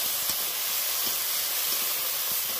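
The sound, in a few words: green chilies and spring onions sizzling in hot oil in a wok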